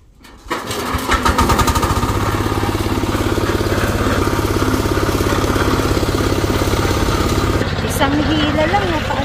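A small engine catches after a single pull-cord start and settles into a loud, steady, rapid chugging run near the listener for several seconds, its pitch shifting slightly near the end.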